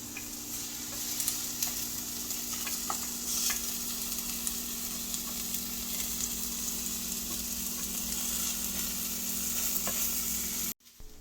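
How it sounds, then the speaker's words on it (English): Steady sizzling of onions frying in a pan, a continuous crackle with faint scattered pops, close and even throughout, ending with a brief cutoff. "While the onions are frying up"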